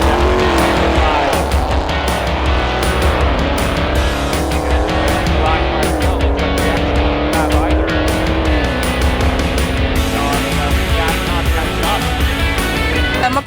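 A naturally aspirated race car engine roars continuously and loudly at a summer motorsport festival, revving up and down with shifting pitch and occasional tire squeal, close by throughout.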